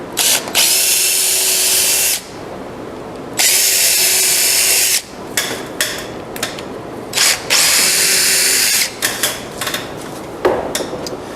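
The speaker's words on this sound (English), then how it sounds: "Pre-drilling here." A power drill whines loudly in several bursts while pre-drilling wood for a bike stand, long runs alternating with short stop-start pulses and brief pauses, close by with no talking.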